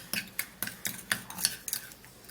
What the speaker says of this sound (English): then mix it up really good